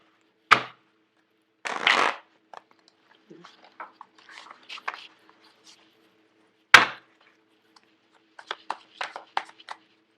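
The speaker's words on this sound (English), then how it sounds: "I'm going to pull out 5 cards." Tarot cards are pulled one by one from a deck, giving a few short papery flicks and shuffles close by, with quiet handling sounds in between and a voice speaking over part of it.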